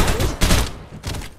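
Rapid gunfire bursts in the Farlight 84 video game, a loud fusillade of shots in two or three clustered volleys with brief gaps between them.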